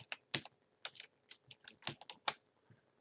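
Keys on a computer keyboard clatter in about a dozen quick, uneven taps, close and fairly quiet, as text is entered into CAD software, with no voice.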